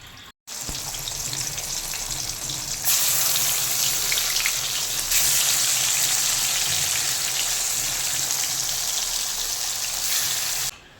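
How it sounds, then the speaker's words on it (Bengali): Fish rubbed with turmeric and salt frying in oil, a loud, continuous, rain-like sizzle that starts abruptly and swells after a few seconds before cutting off at the end, with no talking. "এই যে মাছ ধুয়ে হলুদ লবণ মাখিয়ে রেখেছি এবার ভেজে নেব"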